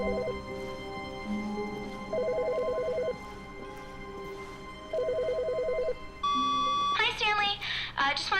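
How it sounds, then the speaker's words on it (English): A telephone rings inside the video game The Stanley Parable, its electronic trill repeating in three clear bursts over steady game ambience, followed by a voice beginning to speak. "Is that a phone?"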